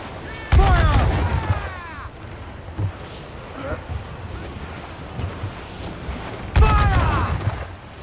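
Ship cannons fire in Assassin's Creed IV Black Flag at sea: two heavy booming shots several seconds apart over rolling waves and wind, with shouted voices in between.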